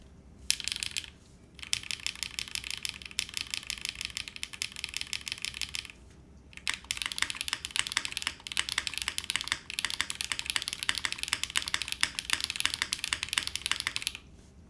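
Fast, steady typing on a mechanical keyboard with spring-loaded switches and a touch screen knob, dense close clacking in two long runs split by a brief pause, with no talking.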